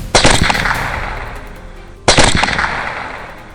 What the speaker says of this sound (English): The other hunters fire in rapid succession